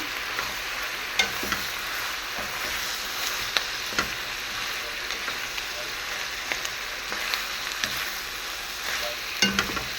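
Food being stirred in a hot pan: a quiet, steady sizzle with small scraping clicks and taps scattered irregularly throughout, no voices.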